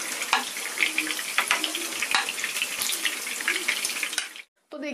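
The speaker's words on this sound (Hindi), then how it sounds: "कोफ्ते हमारे अच्छी तरह से फ्राई हो चुके हैं, और इसमें हमने नए कोफ्ते डाल दिए हैं" Fish koftas frying in hot oil, a dense bright crackling sizzle with scattered pops close by that cuts off abruptly near the end.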